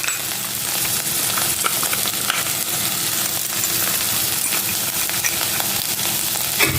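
Dry masala powder stirred into egg pepper fry in a pan over a low flame, with steady close sizzling and frying under continuous scraping and clinking of the spoon against the pan, no talk.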